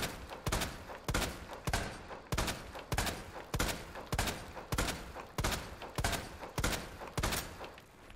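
Gunshots fired at an enemy in a video game ring out in a steady series of about a dozen sharp, evenly spaced blasts, each with a short decaying tail, fairly quiet overall with no talking.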